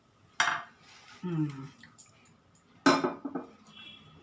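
Fried parathas made with puffed rice, flattened rice and popped rice are tipped onto a plate, giving two sharp clattering knocks of utensil against plate, a couple of seconds apart, with a brief voice between them.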